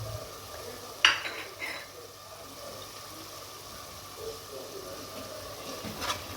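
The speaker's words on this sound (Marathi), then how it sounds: "हे व्यवस्थित परतून घ्यायचं आहे." Chicken stirred and sautéed with homemade black masala and chilli in a pan for Khandeshi chicken rassa, giving a low steady sizzle with a sharp utensil scrape near the start and soft stirring clinks.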